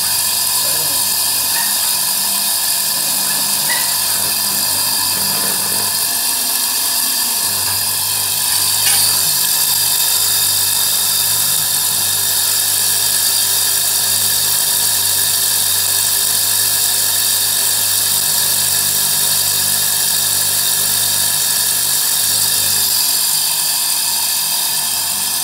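A multi-purpose meat grinder with a copper-wound motor grinds raw rice, a steady high-pitched mechanical whine and hum running continuously with a faint rattling frame, no talk over it.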